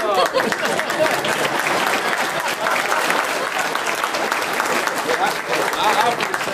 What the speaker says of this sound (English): I know everybody's clapping because you know I'm coming to an end.